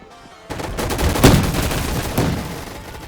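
Bursts of rapid gunfire from the shooting video game Gun Fight Arena, loud and close, with a heavier volley in the middle and another flurry near the end.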